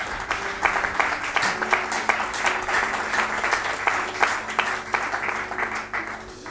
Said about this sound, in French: Pouvons-vous acclamer le Seigneur Jésus-Christ?